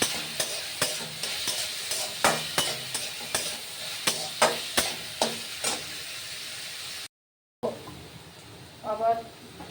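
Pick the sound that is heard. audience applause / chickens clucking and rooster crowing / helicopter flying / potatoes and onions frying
potatoes and onions frying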